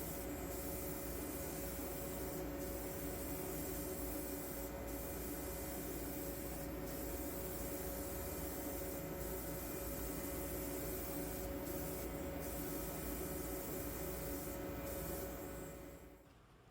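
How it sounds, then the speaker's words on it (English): StewMac aged lacquer clear coat sprays onto a guitar body being painted as a '79 EVH Bumblebee, a steady close airy hiss running continuously with faint periodic clicks before it cuts off at the end. "I'm starting to slow down my hand just a little bit and allow more paint coverage onto the body as I spray."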